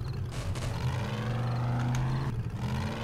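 In the survival video game 7 Days To Die, a car engine drones loud and close with a steady low rumble. Faint clattering and shifts in pitch sit on top of it, and no one talks.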